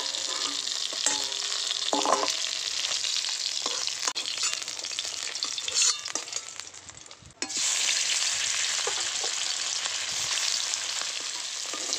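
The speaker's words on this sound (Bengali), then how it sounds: "মাছগুলো লাল লাল করে ভেজে নিলাম, এবার তুলে নেব।" Pieces of catla fish fry in hot oil with a loud, steady, close hiss and crackle that continues throughout, broken only by a brief dip and a couple of light clinks as the pieces are stirred.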